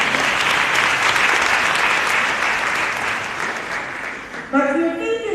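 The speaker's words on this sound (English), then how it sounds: "She needs a round of applause." An audience at a university honorary doctorate ceremony breaks into dense, sustained applause that gradually thins before a voice starts speaking at the end.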